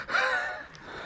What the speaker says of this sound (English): You're breathing hard.